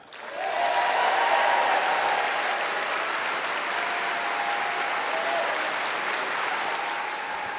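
A large parliamentary crowd gives sustained, loud applause with some cheering. It holds as a steady, dense wash for several seconds with no speech over it.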